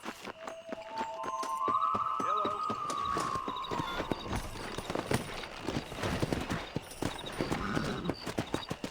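Horse hooves clip-clop at a steady gallop while riding in Red Dead Redemption, with a whinny early on, background music, and voices talking over the riding.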